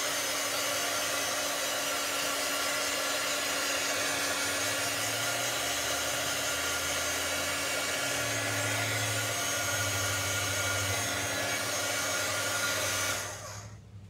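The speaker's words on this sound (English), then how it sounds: "it's safe to turn on the heat tool, and I'm sorry, this is going to make a little bit of noise" Heat tool drying alcohol marker ink on vellum, a loud steady blowing whir held for about thirteen seconds before cutting off, close and alone.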